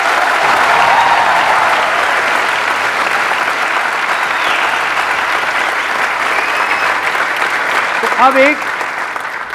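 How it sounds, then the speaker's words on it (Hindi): Large audience applause at a motivational talk, a loud continuous roar of clapping that holds steady, with a brief whistle near the end and a few spoken words at the close. "एक लेवल ये है तालियों का और सीटियों का"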